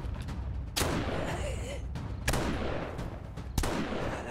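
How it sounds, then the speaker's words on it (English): Gunfire in the survival game 7 Days to Die during a horde mode fight: three sharp, loud shots about a second apart over a rumbling, noisy background. "This is rapid fire here."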